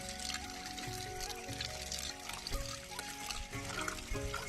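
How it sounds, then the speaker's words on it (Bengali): Greens being washed by hand in a basin of water in a home kitchen, with a steady close swish, slosh and trickle of water and faint background noise, no talking. "তোমাদের বৌদি এখন শাক ধুচ্ছে"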